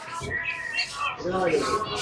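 Pigeons and other caged birds chirp and call at close range inside a bird shop in Habiganj, with bursts of bird calls running through the clip alongside a person talking.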